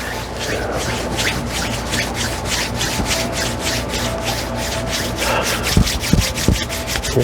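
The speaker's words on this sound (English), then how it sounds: "Rub your hands, make sure your fingers go inside and outside so you warm up in between your fingers" Two hands rubbed together steadily during a tai chi and qigong warm-up, a continuous close, dry friction rasp with rhythmic strokes, ending with a few sharper pats or taps.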